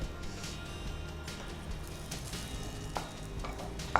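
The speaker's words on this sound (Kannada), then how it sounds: "ಸೊ ಇದನ್ನು ಫಸ್ಟ್ ಫ್ರೈ ಮಾಡ್ಕೊಳ್ಳಿಕ್ಕೆ" Raisins frying in a pan for rice-flour laddu, giving a steady low sizzle throughout with occasional light clinks and stirring taps, close and moderately loud, with no talk.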